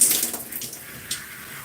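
Tap water runs steadily while conditioner is rinsed out of hair, a close, hissy splashing stream with no voices.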